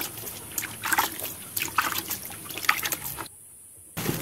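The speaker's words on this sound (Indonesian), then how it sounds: "Kemudian kita siram lagi dengan larutan EM4 secukupnya." EM4 solution is poured and splashed over layered cassava pulp being mixed into chicken feed, a trickling, dribbling liquid sound in uneven bursts that stops briefly near the end before resuming.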